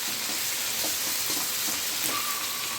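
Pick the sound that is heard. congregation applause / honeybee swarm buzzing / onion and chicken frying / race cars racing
onion and chicken frying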